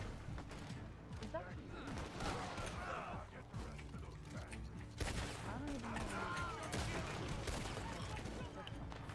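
Gunfire in the online western video game Red Dead Online crackles in dense, overlapping volleys throughout, mixed with busy game noise and voices.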